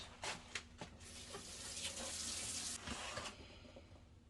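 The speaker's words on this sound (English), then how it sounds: "I need to wash my hands" Water runs from a kitchen faucet while hands are washed during Thanksgiving meal prep, a steady broadband rush lasting a few seconds with some clinks and knocks around it, close and moderately loud.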